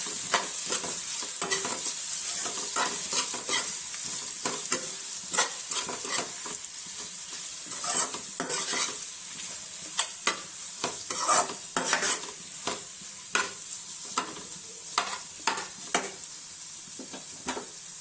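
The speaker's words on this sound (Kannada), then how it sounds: "ಈಗ ಎಲ್ಲಾನು ಮಿಕ್ಸ್ ಮಾಡ್ಬಿಡ್ತೇನೆ ನೋಡ್ರಿ." Food is mixed in a sizzling pan: a continuous hiss of frying with many quick, irregular scrapes and clinks of a spatula, close and moderately loud.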